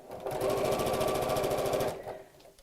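A sewing machine runs steadily while stitching fabric for a patchwork purse. It gives an even, fast mechanical chatter for nearly two seconds, then stops abruptly, close and clear with no talking.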